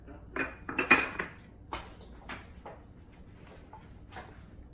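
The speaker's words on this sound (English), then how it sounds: "Now we just have to pour it into dishes." Chocolate pudding is poured into small dishes. A few clinks of dishes and cutlery come first, close and fairly loud, and then lighter taps and a faint scrape fade into a quiet kitchen.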